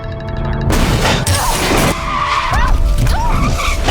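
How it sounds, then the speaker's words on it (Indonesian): In a film scene, a car is hit by a truck, then skids and rolls into a ditch: a loud tire squeal and skid follows an abrupt crash, with tumbling thuds and scraping. "Dalam sekejap, mobilnya ditabrak truk dan terguling ke dalam parit."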